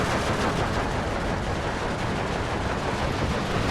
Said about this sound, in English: We'll watch the artillery come in shortly.